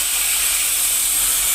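Steam vents from a pressure cooker in a steady, loud, unbroken hiss that holds constant from start to finish.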